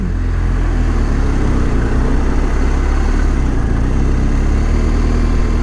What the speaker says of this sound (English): So there's a race happening of these trucks